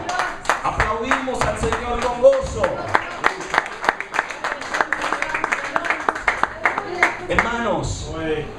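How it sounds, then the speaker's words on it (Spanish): A church congregation claps for the Lord during a Spanish-language sermon, with steady clapping running through the whole clip under voices and raised speech. "Aplaudimos al Señor."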